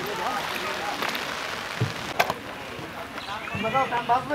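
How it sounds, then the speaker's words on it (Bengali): Rain patters down over a floating guava market on the river at Bhimruli, Jhalokathi, a soft steady hiss with scattered drops, while people talk nearby and boats knock about. "দেখুন বৃষ্টি, আষাঢ় মাস, তাই মুহূর্তেই বৃষ্টি চলে এলো।"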